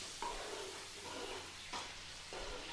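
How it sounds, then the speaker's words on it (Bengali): Rohu fish frying in a pan gives a steady, fairly quiet sizzle, with a few soft stirring scrapes and short bursts spread across it. No one speaks. "রুই মাছ এখানে ভাজা চলছে।"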